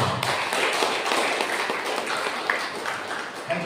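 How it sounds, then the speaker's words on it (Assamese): A church congregation claps together, a dense, continuous patter of hands filling the space, fairly loud and steady throughout. "আমেন বলা আমি তালি বজাই"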